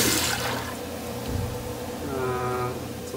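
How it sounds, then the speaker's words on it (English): A weak-flushing toilet in a shower and spa area rushes and gurgles with water, swirling steadily and then trickling as the bowl refills, heard fairly close with no talking. "It's a lousy flusher."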